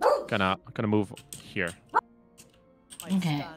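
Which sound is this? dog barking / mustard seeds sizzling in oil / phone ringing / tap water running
dog barking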